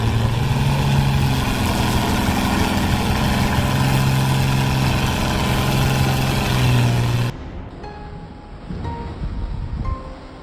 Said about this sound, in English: This tractor really impressed me. Look at it working hard and roaring.